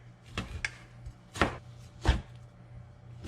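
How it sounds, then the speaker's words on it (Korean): Frozen, partly thawed chicken breast minced with a knife on a cutting board, a series of sharp, irregular chopping thuds heard up close with no talking. "닭가슴살을 다져줄게요"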